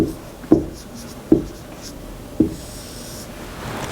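Pen or chalk strokes during a Sanskrit grammar lesson land as a few separate sharp taps and scratches, spaced about a second apart, against a quiet room with faint background noise.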